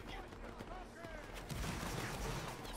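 Musket volleys crackle in a Napoleonic Wars multiplayer video game, a dense spread of distant overlapping shots under continuous game noise while someone talks over voice chat.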